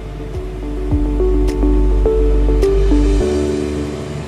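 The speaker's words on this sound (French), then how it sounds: "on filtre immédiatement la solution et le solide contenu dans le bécher" Vacuum filtration in a chemistry lab: a steady low pump hum with gurgling, sucking drips as a solution and solid from a beaker are drawn through wetted filter paper into a vacuum flask.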